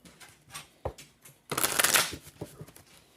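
Oracle cards are shuffled by hand in short bursts: a few light riffles and taps, then a denser, louder flurry of shuffling near the middle, close and clear with no talking.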